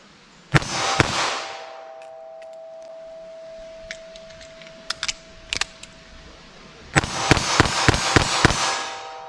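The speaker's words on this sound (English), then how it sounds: "So 22 mag, I'll do a couple shots and then a reload, see what I can get on target here." A .22 Magnum revolver fired outdoors at about 11 yards with Hornady Critical Defense ammunition: two sharp cracks, then quiet clicks and rattles of reloading, followed by a fast string of loud shots close by.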